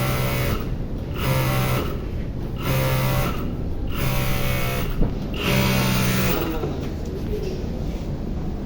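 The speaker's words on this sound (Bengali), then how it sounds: "মেশিন চালাইলাম।" Brother S-7200A industrial sewing machine running in bursts, about six short rapid whirring stitch runs of roughly a second each separated by pauses, close and fairly loud.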